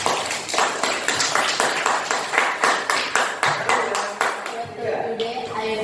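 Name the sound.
audience clapping hands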